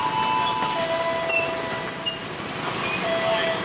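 A KRL commuter train pulls into Tigaraksa Station with a steady, loud rumble of wheels on rail and high, thin squealing tones drawn out throughout. No voices are heard.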